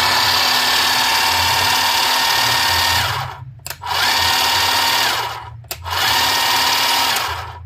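A battery-operated hedge trimmer runs with a loud, steady, high-pitched motor buzz and blade chatter, cutting out briefly twice as the trigger is released and pressed again.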